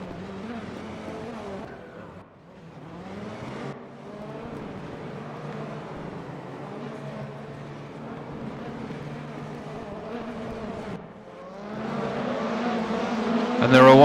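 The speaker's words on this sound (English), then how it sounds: "Bags of smoke and tyre spin behind them" Mini League race cars pull away together at the start, engines droning and rising in pitch as tyres spin and smoke, the roar swelling louder toward the end; no one speaks over it.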